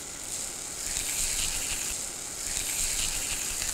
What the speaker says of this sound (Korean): 자, 거기에 이제 고기하고 채소를 구워줄 건데요. 자, 고기를 구워줍니다.